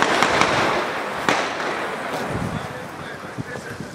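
New Year's Eve fireworks go off outdoors, a dense continuous crackle and hiss with a few sharper pops, loud throughout and fading slightly toward the end.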